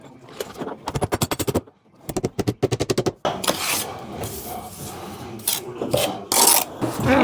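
A nail gun fires brick ties into wall studs in rapid bursts of sharp, loud shots, two quick volleys close up. Rougher scraping and handling noise follows.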